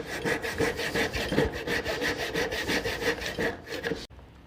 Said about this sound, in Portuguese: Então eu preciso passar o serrote ou o arco de serra e sempre observando até onde eu posso ir.